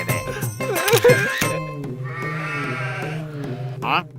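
A goat bleats in wavering cries over a steady low background drone, with a shorter bleat near the end; other sounds crowd the opening moments.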